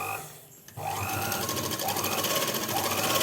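A sewing machine stitches the seam of a salwar pant, its motor starting after a brief pause and then running in a steady, loud, fast-ticking whir, close up with no talking.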